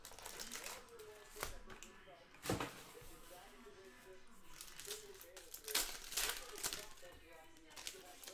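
Basketball trading card packs from a Panini Revolution hobby box being ripped open, with crinkling wrappers, tearing and card shuffling in irregular bursts, under a voice talking.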